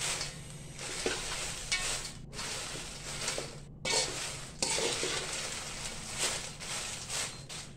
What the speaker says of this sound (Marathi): बारीक गॅसवरती आपल्याला मिरची भाजायची बरं का